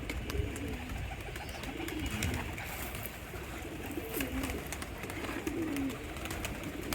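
Newly released pigeons cooing in soft, repeated low calls, some close and some farther off, over faint outdoor background noise, with no talk.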